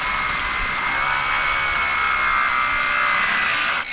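A DeWalt power tool cuts steadily in a loud, continuous high-pitched whine with a grinding edge, running close and unbroken before cutting off near the end.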